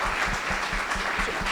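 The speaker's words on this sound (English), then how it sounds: "Let's give Neil a round of applause, please." A conference audience claps in a brief, dense round of applause, steady and fairly close, with no talking over it.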